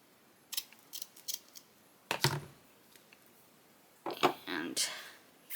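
Scissors cut paper in a papercraft session: several short snips, then two heavier crunching cuts, with brief quiet gaps between them.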